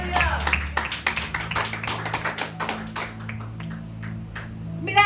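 A church congregation claps for the Lord at a service, with loud rhythmic clapping from many hands over a sustained low hum, the claps thinning out toward the end.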